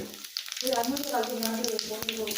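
Whole cumin seeds hit hot oil left over from frying fish, a short close sizzle rising at once, with a voice talking over it.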